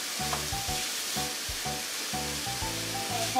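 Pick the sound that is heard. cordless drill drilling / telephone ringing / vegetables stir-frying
vegetables stir-frying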